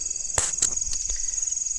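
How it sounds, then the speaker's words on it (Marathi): Crickets chirp steadily at night by a river in Konkan, a thin, continuous high trill with a few soft knocks and rustles nearby. "मागे जर तुम्ही ऐकत असाल तर रातकिड्यांचा आवाज येतोय"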